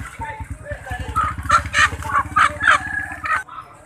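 A babon hen clucks and squawks close by at a market while a low, rapid engine-like rumble runs underneath.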